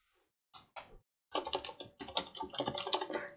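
Typing on a computer keyboard: a couple of isolated key taps, then a quick burst of rapid clicking keystrokes, heard close and clear without speech.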